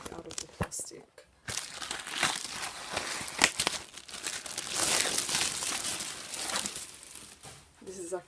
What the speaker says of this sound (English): I'm going to use this and take out of the plastic.